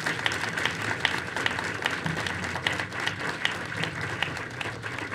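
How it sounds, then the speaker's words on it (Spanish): A talk audience gives a guest speaker a louder round of applause: sustained, dense crowd clapping with crisp individual claps standing out, steady in level for several seconds and heard alone. "Esos aplausos llenan a uno de energía"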